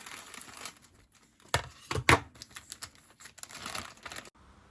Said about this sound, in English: Now I'm going to cut the packet open.